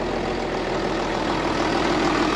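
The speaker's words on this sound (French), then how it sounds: "Ah, il tourne bien le moteur." Vintage bus converted into a camper, its engine idling with a steady low rumble, close and even from start to finish, with nothing else over it.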